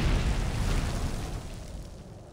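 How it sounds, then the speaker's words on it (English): A heavy booming cannon blast in Warhammer: Mark of Chaos rumbles and slowly decays, with no talking. "Let my cannons shoot you."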